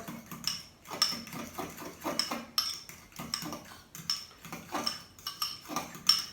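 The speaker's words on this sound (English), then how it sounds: "first I stir a little bit with a little fork" A small fork stirring arugula tomato salad dressing with mint yogurt in a bowl, a quiet, steady run of light clinks and scrapes repeating roughly twice a second.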